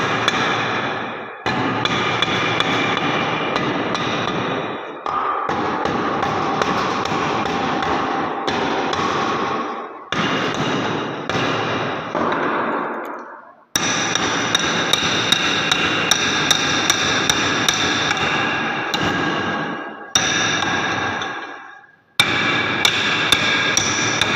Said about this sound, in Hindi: मोटर को खोलने के लिए हमेशा मेलट का प्रयोग करना चाहिए